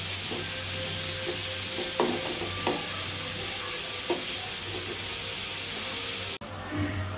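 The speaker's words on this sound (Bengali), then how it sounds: "এই যে বন্ধুরা দেখেন পেঁয়াজটা অনেক সুন্দর করে ভাজা হয়েছে।" Onions fry in oil in a pan while being stirred: a continuous loud sizzle with scattered scraping knocks from the spoon, ending in a sudden cut to a slightly different sizzle.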